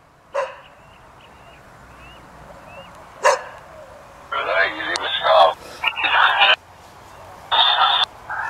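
A dog barks in short separate bursts, with two single yaps followed by louder clustered barking nearby during a quiet indoor session where people talk.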